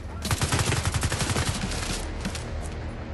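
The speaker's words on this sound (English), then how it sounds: "Getting shot from somewhere else as well." Automatic gunfire in the video game The Division 2 rattles in a rapid, loud burst of close shots for about two seconds, then gives way to a sustained noisy wash of distant firing and ambience.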